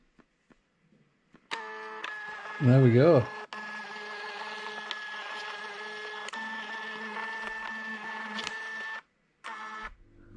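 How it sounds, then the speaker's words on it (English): A Phomemo Bluetooth label printer prints a run of five labels, giving a steady mechanical whir and hum for several seconds that stops abruptly, with a brief rising electronic chirp near the start and a short spoken comment. "I've got a new toy, which is a Phonimo Bluetooth label printer, and I just do it from my phone now"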